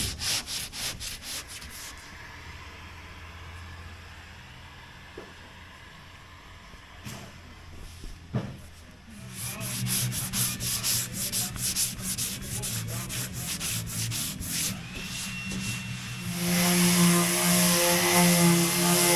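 Fairing compound is sanded on a repaired dinghy hull in long, rhythmic rasping strokes, close and steady, with the scraping growing denser and louder toward the end, and no talking.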